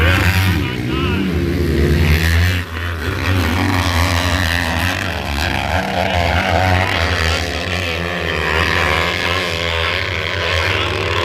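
Side-by-side off-road vehicles race up a hill climb, engines loud and revving with rising pitch, a dense continuous roar mixed with crowd noise and an announcer talking over it.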